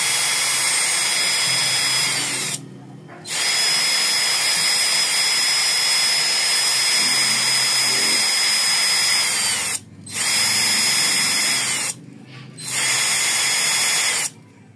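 Faulty cordless drill motor spinning in reverse on a repair bench, a loud high-pitched whine in several bursts, cutting out briefly three times before spinning back up.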